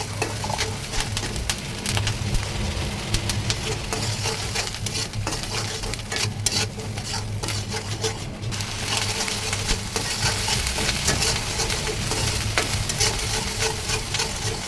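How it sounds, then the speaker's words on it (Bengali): Onion paste fries in mustard oil in a kadai with a loud, continuous crackling sizzle and a scraping stir throughout, and faint bird calls sit in the background. "পেঁয়াজগুলি ভালো করে ভেজে নিচ্ছি।"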